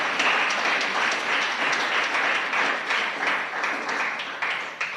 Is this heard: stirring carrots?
no